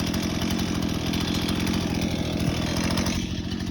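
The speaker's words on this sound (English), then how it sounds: "I just used my chainsaw here and cut these rounds up like this" A chainsaw runs steadily and loudly, close up, as it cuts wood rounds from a branch, with a continuous buzzing engine drone that eases slightly near the end.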